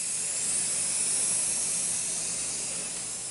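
Aerosol can spraying two coats of flat black paint onto a shotgun barrel rib, a steady close hiss running unbroken and without talk.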